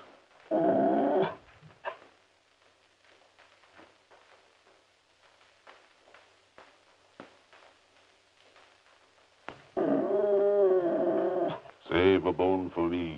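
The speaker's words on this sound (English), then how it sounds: "There must be a dog under the table." A dog growls and grumbles beneath a table in an old Laurel & Hardy comedy short, with low rumbling sounds and voices talking around it amid quieter gaps.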